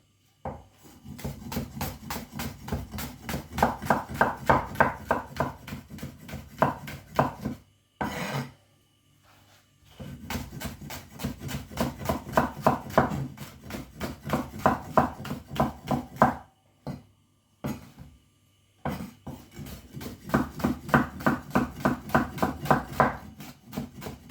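A knife on a wooden board chops ingredients for a northern-style broth. Rapid rhythmic strokes come in three bursts separated by short pauses, close and clear, with no talking.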